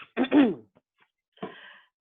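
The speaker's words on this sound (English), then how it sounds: "Oh, I need to cough." A single throaty cough or throat-clear, followed after a pause by a softer, raspy second cough, close and dry.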